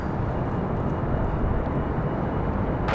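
A Southwest Boeing 737 airliner on final approach to land, a steady broad engine roar with a low rumble, constant and moderately loud at a distance.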